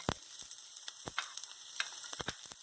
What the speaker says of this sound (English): So first I am adding the onions and the garlic.